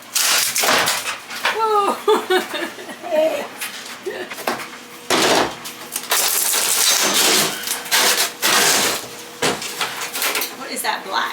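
A Sawzall cuts into a wall of a 1940s small house during a laundry room makeover, with loud, repeated bursts of rasping, crunching sawing separated by brief pauses, while a voice briefly exclaims.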